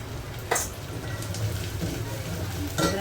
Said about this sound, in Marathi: तेलात व्यवस्थित परतून घ्यायचं आपल्याला